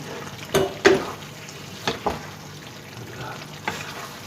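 Cut potatoes frying on low heat in a pot for aloo chicken salan, a soft steady sizzle broken by a few stirring scrapes and clinks, with no talking.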